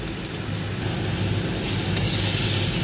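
Chopped vegetables and onion fry in a pan for upma, a steady sizzle that holds through the clip, with a brief sharp clink near the end.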